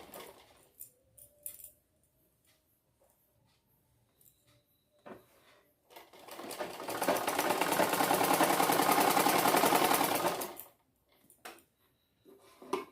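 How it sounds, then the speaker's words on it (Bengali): Sewing machine stitching a doubled side seam on a bolster pillow cover, one sustained run of rapid stitching lasting about four seconds, preceded and followed by quiet clicks and fabric handling. "সাইডটাও আমরা ডাবল করে সেলাই করব। এখানে আমি কাপড়টাকে লক করে নিলাম ভালো করে"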